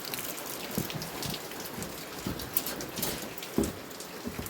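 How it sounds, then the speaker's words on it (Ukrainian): Steady rain pattering on a hard surface, with scattered heavier drops and splashes standing out against the constant hiss. "Просили дощика? Ага, получайте."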